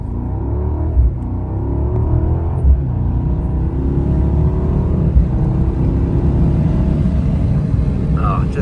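A BMW 760i in sport mode accelerates hard, a steady deep engine rumble rising slowly in pitch over several seconds, heard from inside the cabin with road noise.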